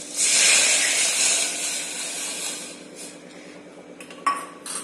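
Hot tempering with curry leaves and a pinch of asafoetida is poured into kadhi, a Marathi dish, giving a loud close sizzle and hiss that slowly fades, followed by a few light utensil clinks.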